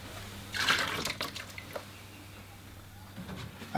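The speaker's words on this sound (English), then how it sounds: "I'm going to change out my water here." Water splashes and swirls as a watercolor painter's rinse water is changed out, a brief pour or slosh near at hand followed by quieter drips and a faint trickle.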